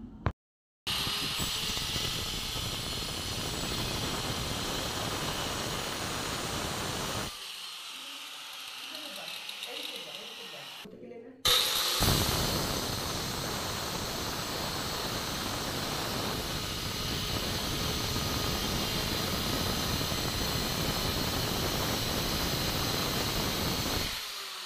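A power cutting machine slices through ceramic wall tiles with a loud, harsh grinding whine that runs continuously, drops away briefly in the middle, then resumes at full strength until the end.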